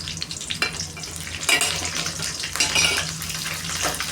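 Curry leaves and lentils fry in hot oil for lemon rice, a steady crackling sizzle with bursts of sharper spitting and faint scraping of a utensil in the pan.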